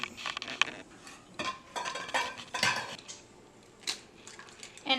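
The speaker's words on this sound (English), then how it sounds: "we are going to crack in each egg one at a time" Eggs cracked one at a time into vanilla-flavored coffee cake batter, giving several sharp taps and clinks against a bowl spread through the moment, close up, with no talking.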